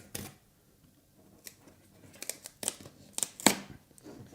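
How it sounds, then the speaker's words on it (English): Quiet crinkly tearing of a cardboard tab on an AKASO Brave 7 action camera box, a few short sharp rips and rustles spread unevenly over a few seconds, close by. "there's a little tab at the bottom that you need to tear"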